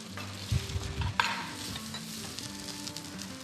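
Onion fries in a pan with a steady, bright sizzle. A few soft stirring knocks come early on, and the sizzle runs unbroken throughout with no talking.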